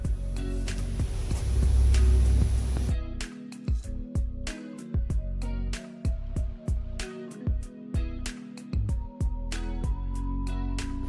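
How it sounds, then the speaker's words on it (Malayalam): A sewing machine runs top stitching on a kaftan nightie, a loud whirring run followed by a series of short, rhythmic stitching bursts broken by brief pauses. "ഇനി നമുക്കൊരു ടോപ്പ് സ്റ്റിച്ച് ഇട്ട് കൊടുക്കാം."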